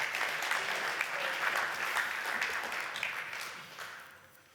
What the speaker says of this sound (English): Give Jack a round of applause